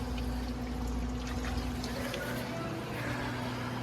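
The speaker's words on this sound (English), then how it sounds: "The water's running down and the sinks are acting as vents." Water drains down through a plumbing system, with the sinks acting as vents, making a steady close gurgling and trickling rush under a low hum, while someone talks over it.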